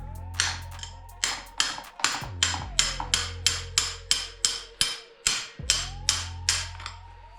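A hammer strikes a ratchet extender to drive out a Fox bicycle fork shaft: about fifteen sharp metallic taps in a fairly even rhythm, close and clear, with ringing tones after some blows and no talk.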